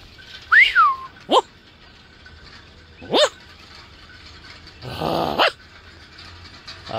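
A man imitates a dog with his voice outdoors on a cold winter morning among sugarcane cutters: a rising whistle-like call, then two short sharp barks and a longer rough growling burst, each separated by brief pauses.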